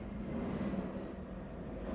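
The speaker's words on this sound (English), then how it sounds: "Sorry about the plane." An airplane passes overhead during an indoor tarot reading, a steady, fairly loud low rumble that holds unchanged for two seconds with no speech over it.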